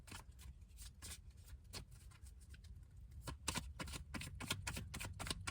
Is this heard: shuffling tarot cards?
yes